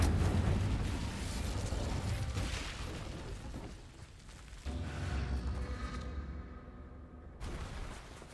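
A fire spell goes off in a video game, a loud roaring burst with crackling flames that sustains for several seconds, drops briefly, then flares again before cutting out near the end, with no voices over it.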